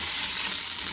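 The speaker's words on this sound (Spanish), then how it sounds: "Estoy aquí friendo, oigan, unas carnitas para mi mamá." Meat fries in a pan at home, a close, steady hiss and crackle of sizzling oil with no talking.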